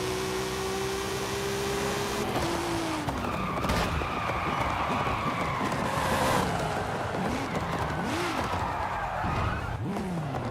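A Toyota Supra in Forza Horizon 5 drifts with sustained tire squeal and skidding over a revving engine whose pitch rises and falls through gear changes and slides, loud and continuous throughout.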